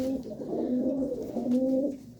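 Deep red Cheena pigeons coo steadily and close in a continuous low, throaty rolling drone with a few swells, alone without talk.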